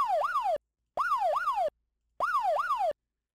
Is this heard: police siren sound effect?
yes